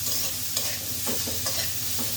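Food frying in a pan with salt and turmeric is stirred, giving a soft, steady sizzle with a few quiet scraping strokes at a near distance.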